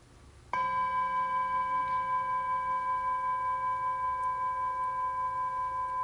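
A meditation bell rings once, a clear metallic strike with a long pure tone that sustains steadily and hardly decays over several seconds in a quiet room.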